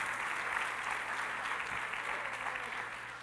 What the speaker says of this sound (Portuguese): Palmas para a calça do 10.